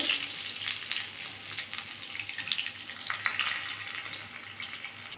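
Bata fish frying in hot oil, a steady close hiss and crackle of sizzling with no talking over it.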